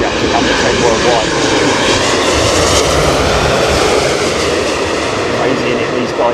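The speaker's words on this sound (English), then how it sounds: "Etihad A380 actually number 10 worldwide" An Etihad Airbus A380 jet roars loud and continuous at London Heathrow Airport during a storm, a steady broadband engine rush with wind.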